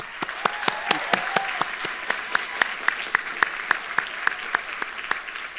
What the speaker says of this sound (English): another round of applause for our ABSN Award winners